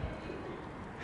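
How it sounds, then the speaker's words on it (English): Hungry pigeons close by, soft low cooing murmurs against steady outdoor background noise, faint and continuous for a single second with no speech. "Hungry pigeons."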